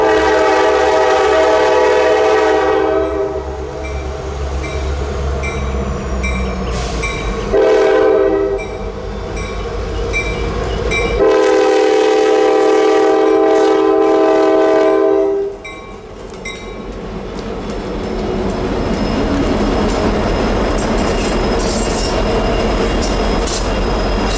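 NS 5642, a diesel locomotive hauling a local freight train uphill, churns loudly nearby with repeated horn blasts between stretches of heavy engine drone and rumbling wheels.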